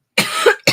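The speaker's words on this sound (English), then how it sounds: "We also hate coughing, but we do it." A single harsh cough bursts out close by, followed after a brief gap by the start of a second cough, with no speech around it.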